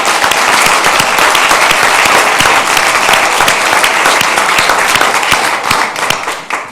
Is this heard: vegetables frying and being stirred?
no